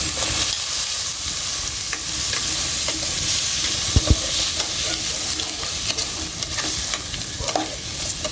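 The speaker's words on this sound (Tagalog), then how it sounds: "Lagyan natin yung hipon." Shrimp go into a pot of bubbling seafood soup and are stirred in, with a loud, constant hissing sizzle close by and scattered clinks of a utensil against the pot.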